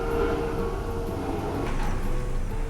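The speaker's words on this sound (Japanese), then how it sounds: "機関車が引っ張る客車列車ですね。" A locomotive-hauled passenger train, InterCity 1142 of five coaches, sits at a station platform, giving a steady low rumble and hum with faint mechanical whine, no voices.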